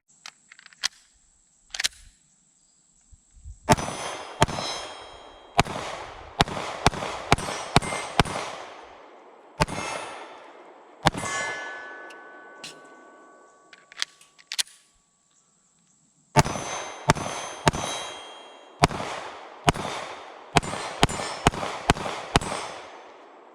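Canik MC9 9mm pistol shots ringing off steel targets at about 15 yards outdoors, sharp cracks in uneven strings with clangs, separated by quiet pauses.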